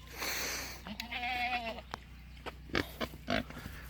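Goats bleat at milking time in a barn, one long wavering bleat up close followed by shorter calls and clanks and shuffling of livestock nearby.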